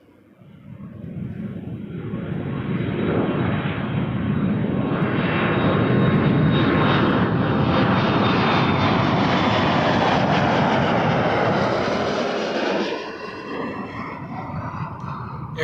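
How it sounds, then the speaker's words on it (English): An Air Canada Airbus A321 jet at Toronto Pearson Airport, lining up on runway 23, swells from quiet into a loud sustained engine roar with a thin whine on top, then drops off near the end. "Air Canada 145 headed to Calgary on a 321, lining up next."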